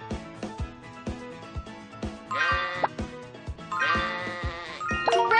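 Two loud sheep bleats rise over a bouncy plinking melody with rhythmic plucked notes, like a cheerful children's game tune, in an animated children's farm game putting sheep in pens.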